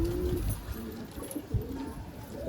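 Madrasi pigeons cooing inside a pigeon loft, a low murmuring coo repeating near and moderately loud over steady background hiss, with several overlapping calls through the stretch.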